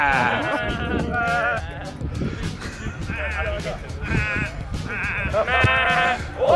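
A person imitates a sheep, making repeated wavering bleats in short bursts, with other voices mixed in.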